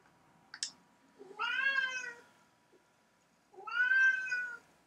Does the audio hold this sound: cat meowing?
yes